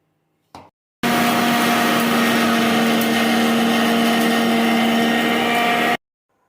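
Mustard seeds, cloves, cinnamon, pepper, fenugreek, ajwain and cumin being ground to a coarse powder for mango pickle: a brief faint knock, then a loud, steady, high whirring motor roar that runs unbroken for about five seconds and stops abruptly.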